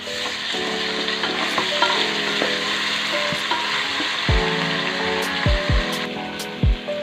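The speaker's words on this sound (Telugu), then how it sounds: "ఉల్లిపాయలు, గోల్డెన్ బ్రౌన్ వచ్చేంత వరకు వేయించుకోవాలి." Onions with ginger garlic paste frying and being stirred in a pan for biryani, a steady sizzle with occasional scraping clinks of a spoon, close and continuous with no talking.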